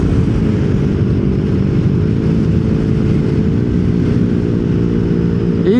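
Yamaha Nmax Techmax scooter with a CVT fitted with a 1000 rpm center spring, engine droning loudly and steadily close by, pitch easing slightly as it downshifts near the end.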